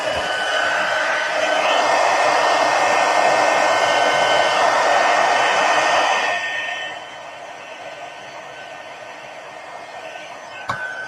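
A heat embossing gun blows hot air in a steady, loud rush for about six seconds, then switches off, leaving a quieter hum with a small click near the end.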